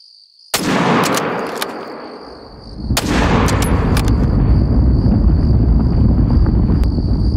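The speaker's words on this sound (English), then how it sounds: "I didn't need to shoot it twice." Two rifle shots boom near the listener in the hunting video game The Hunter: Call of the Wild, each fired at a wildebeest and each trailing a long outdoor echo, over constant wind noise.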